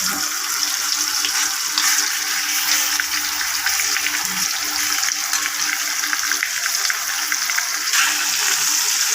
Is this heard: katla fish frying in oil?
yes